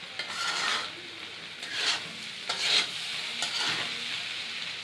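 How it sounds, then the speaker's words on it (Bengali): Okra, eggs and potato fry in a pan as a utensil stirs them. Close, rhythmic scraping strokes come in bursts over a continuous soft sizzle. "এভাবে ভাজি করে খাবেন।"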